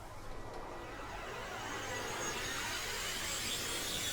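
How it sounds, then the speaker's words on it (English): A cashmere flange riser effect from an Ableton dark tech house production: a steady, noisy swelling wash with sweeping flanged tones, building gradually over several seconds without any voice. "this cashmere flange riser that I use, and that sounds like this"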